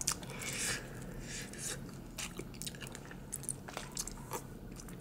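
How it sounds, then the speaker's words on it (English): Bites and chewing into a Chicago-style hot dog topped with jalapenos, a pickle, tomatoes and onions, with soft crunchy mouthfuls repeating close up over a busy restaurant background murmur. "I'm gonna take a bite."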